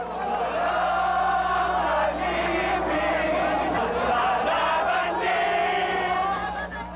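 Large crowd filling the streets during the 1986 EDSA People Power Revolution, a dense continuous roar of many voices shouting and chanting together, loud and sustained throughout over a steady low hum.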